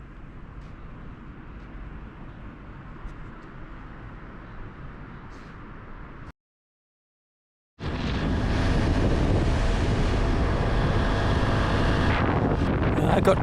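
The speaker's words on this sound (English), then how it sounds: "I've got quite a strong headwind now still, riding the little Cub full throttle" Strong headwind roaring over a Honda Super Cub motorcycle ridden at full throttle, a steady dense buffeting rush that cuts out briefly, then returns louder and fuller.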